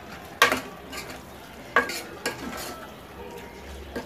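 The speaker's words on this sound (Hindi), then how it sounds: "अभी अच्छे से हमको मसाला भूनना है।" Masala spices for keema matar aloo frying in a pan, with a low sizzle under a few sharp clanks and scrapes of a spoon stirring, spaced out over several seconds.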